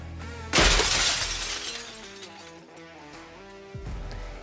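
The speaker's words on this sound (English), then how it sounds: "The window breaker tool is also critical. It will help you easily break windshield glass." A Victorinox Rescue Tool window breaker shatters windshield glass with one loud, sudden crash, followed by a ringing tinkle of falling glass fragments and a second, smaller impact near the end.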